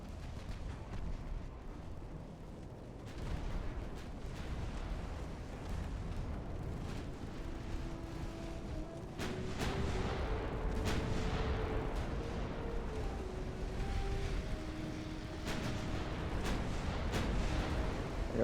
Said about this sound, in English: Alright, main guns on that target